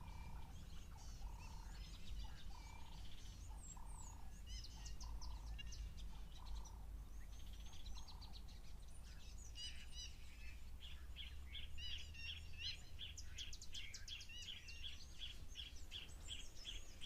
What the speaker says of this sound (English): It's not a bird that you hear calling very often, this common moorhen.